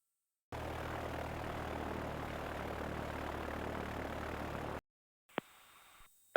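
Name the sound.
small airplane engine after a practice full-stop landing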